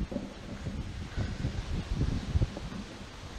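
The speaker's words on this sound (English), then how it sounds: "You can probably feel the wind." Wind buffets the microphone in uneven low gusts and rumbles outdoors while grass is mown with a Walker B19 mower, a steady, muffled roar with no talking.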